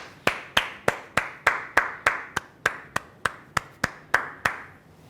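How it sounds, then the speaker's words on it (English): A single person claps in applause for guardians at a new student orientation welcome, about fifteen sharp, evenly spaced claps, close and clear with no other sound. "We usually stand up and acknowledge and applaud your guardians and people who have taken care of you all your lives"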